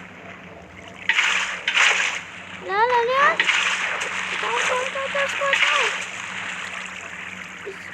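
Water blocks being placed and flowing in Minecraft Pocket Edition, a broad splashing wash that comes and goes across the clip, with a voice speaking and singing over it.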